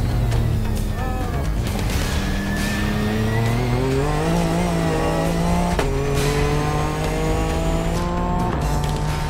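A Nissan racing car at Fuji Speedway accelerates hard under a loud, continuous engine roar, revs climbing and falling through several gear changes, with tire squeal and other cars nearby.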